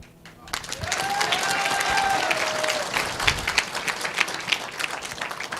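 An audience at a network marketing seminar bursts into applause, rising quickly to sustained loud clapping that gradually thins into scattered claps.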